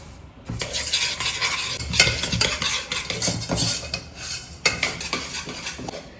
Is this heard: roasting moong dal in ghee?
yes